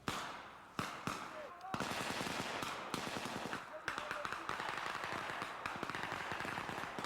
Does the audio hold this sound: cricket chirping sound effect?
no